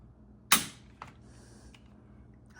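A single sharp dry-fire trigger click from a Ruger RXM pistol, close and crisp, followed by a fainter reset click and a small tick, with no talk.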